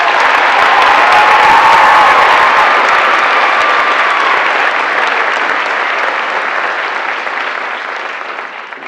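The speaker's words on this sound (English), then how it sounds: "Would you please join me in a round of applause welcoming Ms." A large graduation audience applauds a teacher walking to the podium, loud sustained clapping with some crowd noise that slowly thins and fades over several seconds.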